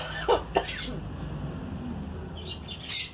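Two short, sharp coughs come close together, followed by quiet ambient noise and a faint bird chirp in the background.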